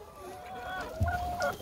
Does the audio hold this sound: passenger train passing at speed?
no